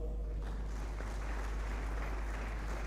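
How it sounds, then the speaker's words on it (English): Audience at a renewable energy conference panel session gives the panelists a steady round of applause, moderately distant and continuous throughout, with a low hum beneath and a faint voice near the end. "Let's give our panelists another round of applause"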